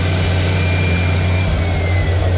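Ferrari F458 Spider fitted with a Forza exhaust, engine running at a loud steady idle with a deep low drone, alone without talk.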